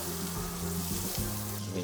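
Onions and pepper fry in a pan with a steady close sizzle, a continuous crackling hiss that runs without pause and no talking over it.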